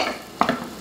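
Finely chopped onion going into a hot pan for a curry sauce, a quiet hiss that jumps into a brief sharp sizzle and scrape partway through, close and short, with no voices.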